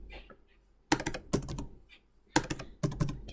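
Close-up bursts of typing on a computer keyboard while writing Java code: quick clusters of keystrokes separated by short pauses, with no talk over them.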